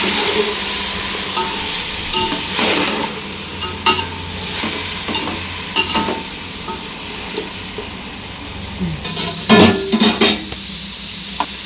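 Chicken pulao with salt added is stirred in a frying pot, a steady sizzle running beneath repeated scraping and clinking of a spoon against the metal, the knocks bunching together near the end.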